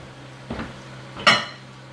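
Wild rice pours into a metal cooking pot in a kitchen, giving two quick rattling, clinking hits about a beat apart: a softer rustle and then a sharper, brighter clatter against the pot.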